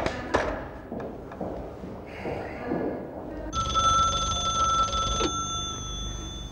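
A telephone rings in a school office, a steady electronic ring with a bright tonal pattern that starts partway through and continues loudly after softer clatter and thumps.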